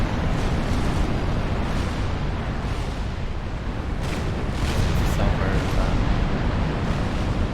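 Tactical missiles exploding during a Supreme Commander battle, a continuous loud rumbling roar of blasts and artillery-like booms with no clear gaps, a dense wall of explosions throughout.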